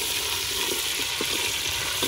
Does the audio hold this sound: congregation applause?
no